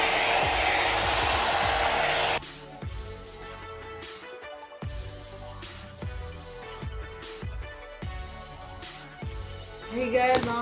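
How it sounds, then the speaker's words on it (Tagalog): A 2-in-1 hair dryer and volumizer brush blows warm air in a loud, steady close-up whoosh for about two seconds, then shuts off, leaving quiet handling and brushing sounds. "Kasi nga blower at the same time siya."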